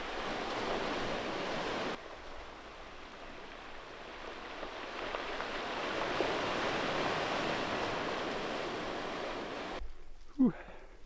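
Ocean surf washing steadily onto a wild beach on the Maine coast at Cutler, a broad continuous roar of breaking waves with some wind, holding at an even level before cutting off near the end.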